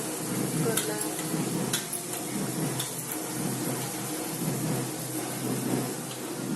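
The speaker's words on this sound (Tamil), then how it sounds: "பாருங்க நல்லா வதங்குது" Chicken biryani ingredients sauté in a pan with a dense, steady sizzle and crackle, punctuated by faint utensil scrapes, close and fairly loud, no voices.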